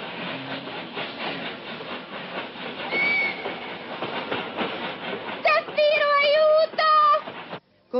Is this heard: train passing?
yes